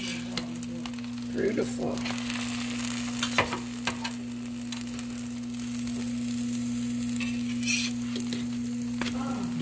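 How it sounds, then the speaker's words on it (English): Pancakes sizzling in a hot pan after being flipped, a steady close frying hiss with a few scraping clicks, under a constant low hum and a brief spoken word. "Then you flip your pancakes."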